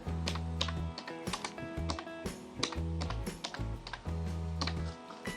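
Computer keyboard keys are typed in quick, irregular bursts of close, crisp clicks, with short pauses between runs and no voices.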